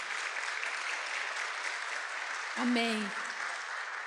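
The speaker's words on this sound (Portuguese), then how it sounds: "dê um aplauso ao Senhor por isso" A church congregation applauds in a sustained, even patter of many hands at moderate distance, while someone briefly speaks over it midway.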